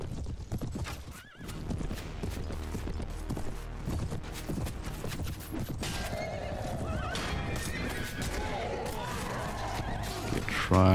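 Cavalry horses in Prophesy of Pendor, a medieval battle game, with continuous clip-clop of many galloping hooves and repeated neighs and whinnies amid a loud clash of battle, a voice talking over it.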